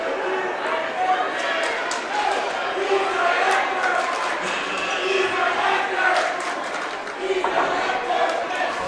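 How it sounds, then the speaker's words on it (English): A crowd chants rhythmically in a gym during a high school boys' basketball game against Chester, a dense roar of many voices swelling and falling, with occasional thumps and cheers mixed in. "The chant from the crowd"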